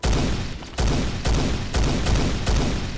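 Loud automatic gunfire from Phantom Forces comes in four quick bursts separated by brief gaps, close and punchy throughout.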